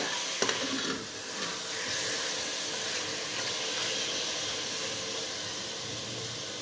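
Chicken pieces frying in a pan for chicken curry give a steady, close hiss and sizzle throughout, with a faint clink of a utensil at the start.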